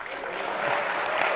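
Dense, steady applause from a conference audience, a continuous wash of many hands clapping at moderate loudness with no individual claps standing out.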